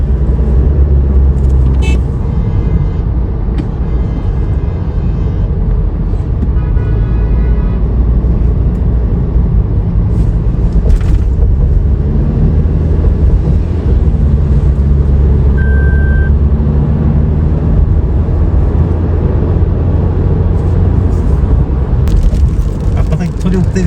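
Busy Delhi road traffic rumbles steadily, with cars and trucks passing, a few horn toots and reversing beeps mixed into the dense, continuous din.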